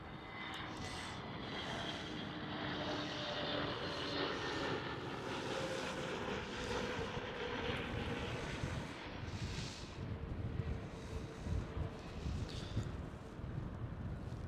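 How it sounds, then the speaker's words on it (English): A Transavia Airbus A321neo jet at Schiphol airport gives a continuous loud engine roar with rising and falling whine, plus some wind buffeting against the microphone. "look who's here. It's another A321NEO of Transavia."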